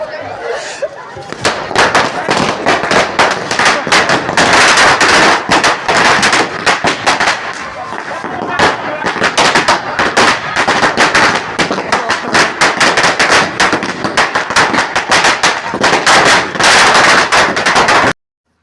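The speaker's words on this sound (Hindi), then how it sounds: "एंजॉय करने के लिए हमें मजबूरन पटाखे फोड़ने पड़े।" A dense, nonstop barrage of firecrackers bursts at a wedding celebration, very loud and close, with rapid crackling pops lasting many seconds and faint crowd chatter beneath.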